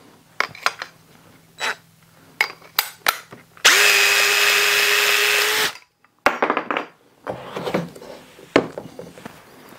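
A DEWALT Impact Connect copper pipe cutter on an impact driver slices through 3/4 inch copper pipe with one loud, steady two-second whir, set between sharp clicks and handling knocks from close by.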